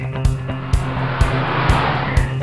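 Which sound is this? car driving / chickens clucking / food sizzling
car driving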